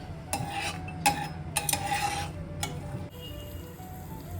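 Chopped almonds and cashews fry in a pan for a potato and rava snack mix. A soft, steady sizzle runs underneath while a spatula scrapes and clinks against the pan in several sharp strokes.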